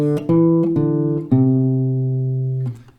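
Acoustic guitar picks a short melody, the G part of a song, with several clear plucked notes followed by a long sustained ring that fades near the end.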